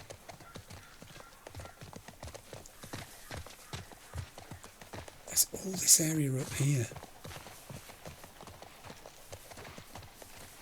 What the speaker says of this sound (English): I can hear the hooves of the horse